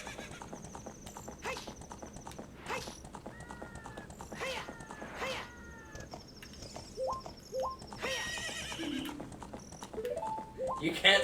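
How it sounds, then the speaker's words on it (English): Horse hooves clip-clopping at a gallop with repeated neighs and whinnies in Zelda: Ocarina of Time at night near Gerudo's Fortress, game effects heard under a person talking. "You can't stop me, I'm on a horse!"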